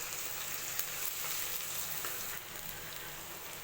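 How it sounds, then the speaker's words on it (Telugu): Onions fry in a pan until browned while cooking paneer kadai masala, a steady, close sizzle running throughout with no voices. "ఉల్లిపాయ బాగా వేగిందండి, బ్రౌన్ కలర్ వచ్చేసింది బాగా."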